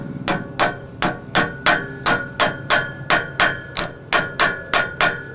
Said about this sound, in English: all you do is just pretty much put it right up here and tap her into place